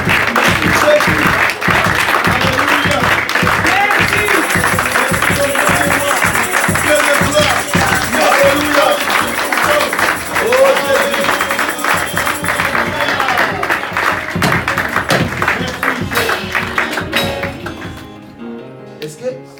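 A church congregation claps and cheers during a worship service, sustained loud applause with whoops and scattered clapping that fades out toward the end, with voices mixed in.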